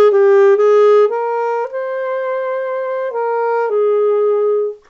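Solo saxophone playing a short melodic lick from Suite Breve, a few sustained legato notes in one breath, warm, loud and close with no other sounds.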